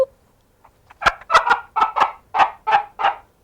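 A cup-and-string noisemaker rubbed with a wet sponge gives a run of about eight loud, chicken-like squawks in quick, slightly uneven rhythm, close and with no voices over them.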